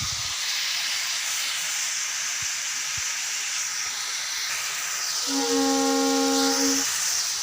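Ingredients sauté in a hot pan with a steady, loud hiss and sizzle throughout. A brief tonal hum rises near the end.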